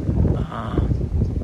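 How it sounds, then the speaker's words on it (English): Strong wind buffeting a microphone outdoors beside a 2021 Ram 75th Power Wagon with a Snugtop Rebel cap, a steady low rumbling roar with gusty fluctuations throughout. "I apologize for the wind."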